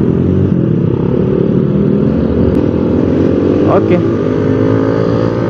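A loud, steady engine roar with dense low rumble, like a revving motorcycle close by, running throughout with a voice briefly heard over it.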